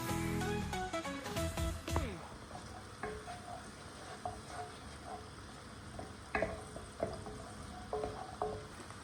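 Onion sizzles in olive oil and butter in a pot, a moderate crackle after a brief burst of clatter at the start, with scattered utensil taps and scrapes over the frying.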